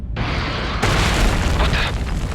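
A missile explosion in the space shooter Everspace 2 begins with a deep rumbling boom, then a second, louder blast that rolls on as a dense, roaring burst. It is close and loud, with no speech.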